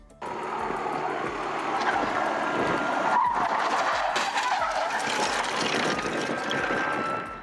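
After police spike strips are put down, a fleeing car on a highway skids and loses control, giving a loud, sustained rush of tire and road noise with a hissing squeal through the middle of the chase.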